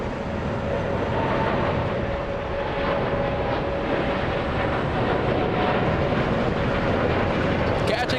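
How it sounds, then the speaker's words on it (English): A Boeing 787 Dreamliner departs runway 25 right at LAX, a continuous broad engine roar with a steady tonal whine, loud and unbroken, with some talk faintly mixed in. "we have the 787 Dreamliner leaving on 25 right"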